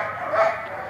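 A single short bark from a German Shepherd at an animal farm, close and moderately loud against faint background noise.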